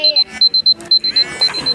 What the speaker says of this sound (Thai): อ๋อเสียงนาฬิกา